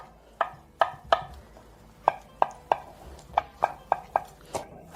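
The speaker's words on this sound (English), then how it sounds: "I usually just chop them with a knife." Knife chopping boiled eggs finely on a cutting board: about a dozen sharp, close knocks in an uneven rhythm, loud and clear with no talking.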